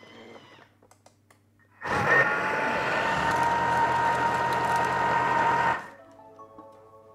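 A Thermomix kitchen machine mixes banana bread batter at speed 6, a loud steady whirring motor roar that starts abruptly, holds for about four seconds, then winds down and stops.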